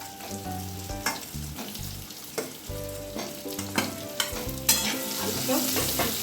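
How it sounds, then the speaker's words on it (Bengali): Pointed gourd and potatoes frying in a cumin-seed tempering in a wok, a steady close sizzle with frequent spatula scrapes and stirring strokes throughout. "পটলটা ওই ওই ফোড়ন জিরে ফোড়নের মধ্যে দিয়ে ভাজা করছি তার মধ্যে আমি এই আলুগুলোও দিয়ে দেবো"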